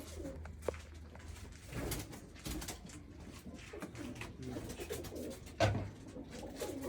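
Pigeons in a breeder's loft coo softly and repeatedly at close range, with low throaty calls over quiet room noise and an occasional faint knock.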